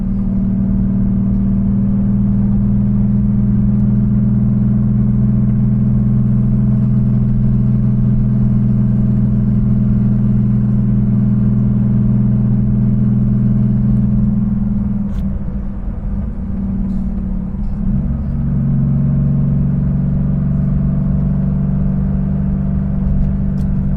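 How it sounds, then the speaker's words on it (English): Air-cooled Porsche 911 flat-six exhaust on a fall drive, a loud, close, steady droning hum that dips and shifts pitch as the engine revs change, with no talking. "just let you guys enjoy the sound of that flat six."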